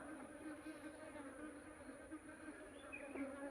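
A steady, droning hum of many bees buzzing close by from an opened hive box of a divided colony, continuous and even throughout with no talking.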